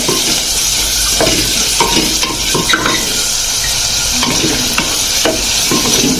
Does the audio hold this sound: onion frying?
yes